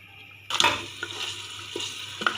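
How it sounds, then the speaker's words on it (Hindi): Mutton frying in a cup of ghee with dry coriander for palak gosht, quiet at first, then a sudden burst of sizzling as the meat goes in, followed by a steady crackle with occasional stirring scrapes and clinks. "अब गोश्त को भून लेते हैं।"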